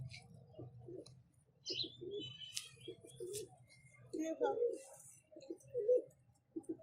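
A pigeon coos in soft repeated bursts nearby, with a few faint chirps and rustles between calls.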